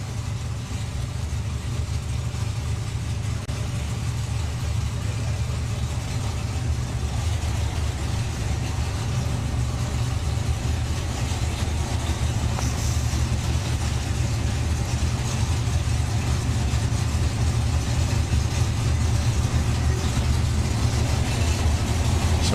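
Drag racing cars, a Banzai Cobra and a Jaguar E-Type, sit at the strip with engines running in a steady low rumble that holds at an even, loud level throughout.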